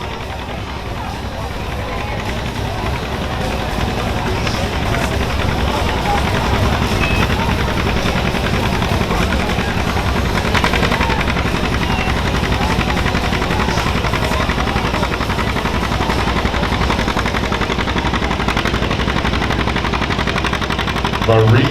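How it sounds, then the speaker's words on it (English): A John Deere tractor engine roars loud and unbroken during a tractor pull in Mondovi, Wisconsin, a harsh rapid rattling drone that holds steady for over twenty seconds, with an announcer's voice partly buried beneath it. "We'll see if that tractor's got it in it today."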